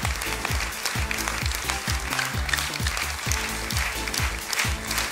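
Audience applauding at a theatre festival awards ceremony: dense, sustained clapping from a large crowd, loud and even throughout, with a faint voice partly audible underneath.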